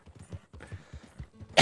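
Horse hooves clip-clopping at a walk in Red Dead Redemption 2, a run of soft, close, evenly spaced thuds ending in a brief louder burst.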